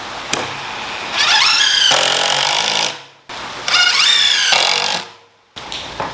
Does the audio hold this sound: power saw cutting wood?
yes